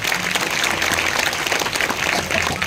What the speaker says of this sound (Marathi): या सगळ्या तरुण मंडळी करता एकदा जोराने टाळी वाजवा.